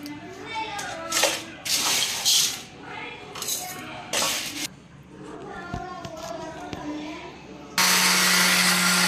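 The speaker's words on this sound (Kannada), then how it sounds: "ಈ ಥರ ಮಿಕ್ಸಿಗೆ ಹಾಕಿ ನೋಡಿ, ಈ ಥರ ಪೌಡ್ರ್ ಬರ್ತೈತೆ." A person talks over handling noises, then a mixer grinder grinding grain to powder starts up with a loud, steady whirring roar that continues to the end.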